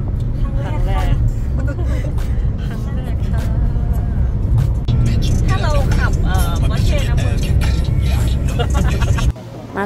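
Car cruising on a motorway, a loud, steady rumble of engine and road noise filling the scene while voices talk over it throughout.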